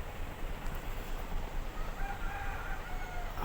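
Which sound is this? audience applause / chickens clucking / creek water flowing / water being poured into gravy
chickens clucking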